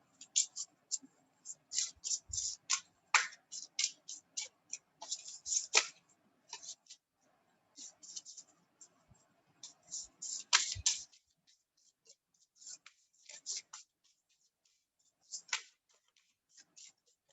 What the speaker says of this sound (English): I hope I don't have to shuffle for too long.